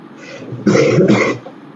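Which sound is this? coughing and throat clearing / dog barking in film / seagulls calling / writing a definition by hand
coughing and throat clearing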